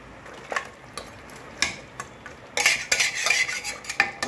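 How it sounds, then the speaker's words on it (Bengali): A utensil scrapes and clinks against a pan while yogurt is stirred and cooked down in it, scattered taps early on, then a denser, louder stretch of stirring with a faint sizzle underneath. "দই দিয়ে এটা খানিকক্ষণ কষিয়ে নিলাম"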